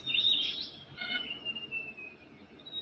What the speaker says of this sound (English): You can hear the birds, the insects surrounding you.